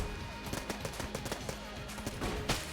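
Rapid, continuous gunfire from guns in the video game Enter the Gungeon, a dense rattling stream of shots that stays loud and close throughout, with no talking.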